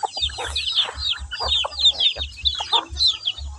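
Backyard chickens cluck and chirp busily at feeding time in the evening, with overlapping close calls and soft repeated low thumps of pecking or movement throughout.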